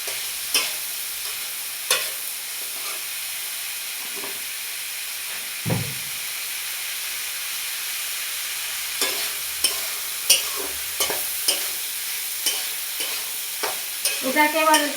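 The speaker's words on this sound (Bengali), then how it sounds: "এটাকে এবার আমি একটু ভেজে নেব" Chopped figs (dumur) with salt and turmeric fry in a pan for a prawn curry: a continuous soft sizzle and hiss, broken by scattered scraping strokes of a stirring spoon and a few louder clinks, with no talking.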